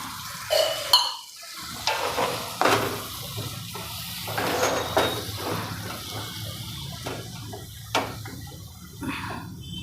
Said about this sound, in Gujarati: હવે આપણે મસાલો ચડે એટલું પાણી નાખશું આમાં